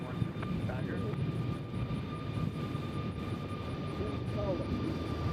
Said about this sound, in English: This plane right here is going to beautiful Pensacola, Florida.